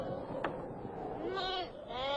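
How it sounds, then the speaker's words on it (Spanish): Sheep bleating at a distance in open dry country, a few wavering cries rising over faint background noise with a sharp tick between them. "Había cerca de él unas 30 ovejas acostadas descansando sobre la tierra ardiente."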